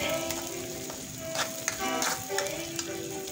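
Ingredients sauté in a pan in a home kitchen, a close, even sizzle with occasional soft stirring scrapes and small spatters over a few seconds.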